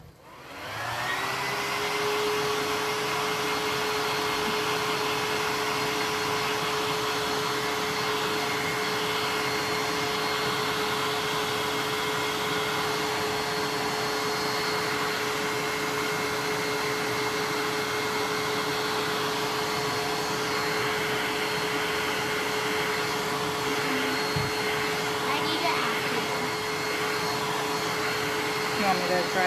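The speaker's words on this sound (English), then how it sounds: "I'm going to use the blow dryer again, so don't mind me" Blow dryer running continuously for about half a minute, drying a freshly painted canvas, with a loud, steady whir throughout.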